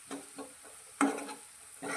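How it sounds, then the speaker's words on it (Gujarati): Chopped vegetables and grated ginger are stirred in a pan while a spinach and pea dish is cooked. A few soft scraping strokes come close but quiet, with one slightly firmer scrape in the middle. "બધી જ વસ્તુને સારી રીતે મિક્સ કરીશું।"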